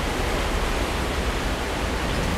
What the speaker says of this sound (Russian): Мы нажали кнопочку, и вода поднялась.